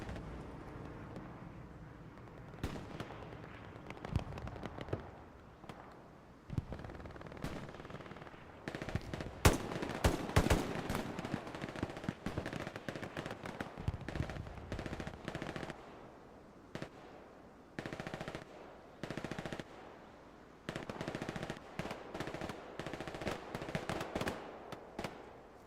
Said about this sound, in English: Artillery strike called into orchards.